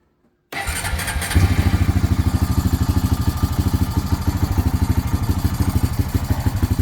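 After a moment of silence, a 2000 Honda Rancher TRX350 ATV engine cranks and catches on choke, then settles into a loud, close, steady idle with a quick, even putter.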